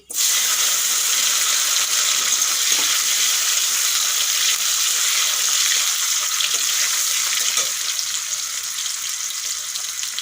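Chopped tomato sizzles loudly in hot oil with a bay leaf, a dense, steady frying crackle that holds for about ten seconds with no voices.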